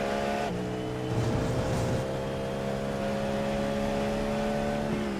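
A steady, droning GTP race car engine in the iRacing video game at Indianapolis hums at a constant pitch, with a brief rev-up early on, continuous and fairly loud with no talking.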